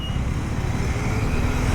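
Steady low road rumble of vehicles in a Delhi traffic jam, engines droning continuously and fairly close with no pauses.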